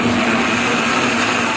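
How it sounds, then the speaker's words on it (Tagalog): A blender whirs loudly at a constant pitch while blending chicken stew with rice and a little water, a dense close motor roar throughout. "Saka pinaandar ang blender."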